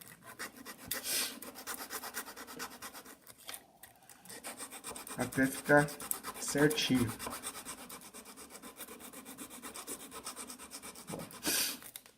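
Rhythmic rasping strokes of a curved file scraping paper, close and moderately quiet, with a few short spoken phrases in Portuguese in between.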